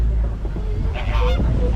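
A flamingo flock at Disney's Animal Kingdom gives loud, goose-like honking calls, with a cluster of nasal honks in the middle over a steady low outdoor rumble.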